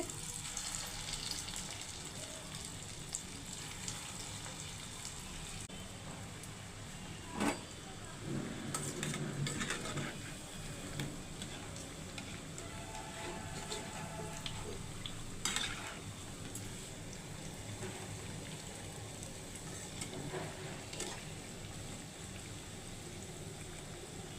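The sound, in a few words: punugulu fritters of dosa batter deep-frying in oil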